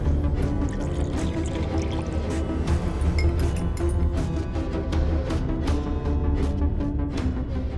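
Liquid is poured and splashes while nimbu pani (lemon water) is made, with a continuous watery pour broken by repeated light drips and clinks.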